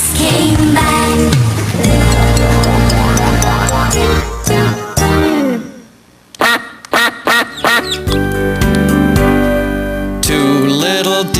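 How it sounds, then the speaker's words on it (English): A loud cartoonish duck quacks in a children's song about ducks, with repeated quacks set over bright musical accompaniment, pausing briefly before a burst of short quacks resumes. "Mother duck said quack, quack, quack, quack,"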